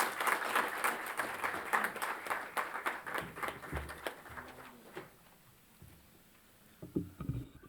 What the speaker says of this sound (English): the Honorable Vice President of India, may we have a big round of applause once again.